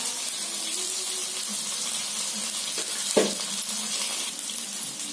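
Sesame oil poured into a kadai for a fish fry masala, a continuous soft hiss of liquid and gentle sizzle, with a single brief clunk partway through.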